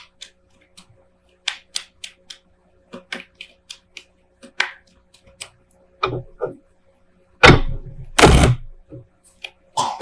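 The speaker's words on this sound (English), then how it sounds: "So let me just shuffle here and we'll pull a few clarifying cards" Scattered light clicks and taps of tarot cards being handled, followed by a few louder rapid riffling bursts near the end, close and without talk.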